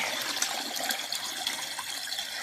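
Cool spring water runs out of a hillside along the Appalachian Trail, a steady close gushing and splashing stream with no break and no voices.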